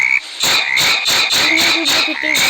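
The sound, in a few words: frog croaking in a video game (99 Nights in the Forest)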